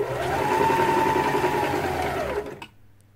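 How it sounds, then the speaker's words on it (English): A Kenmore sewing machine winding a bobbin runs steadily with a high whirring motor hum, close by, then winds down and stops near the end. "Push the foot control down to start the sewing machine."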